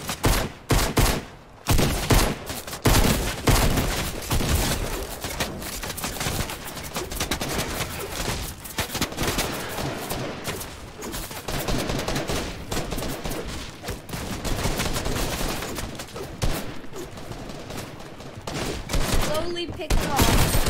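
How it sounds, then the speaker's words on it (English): Dense, nearly continuous enemy gunfire in a Fortnite Battle Lab match against many bots: rapid overlapping shots and bursts stay loud for about twenty seconds. "Oh, he's shooting me"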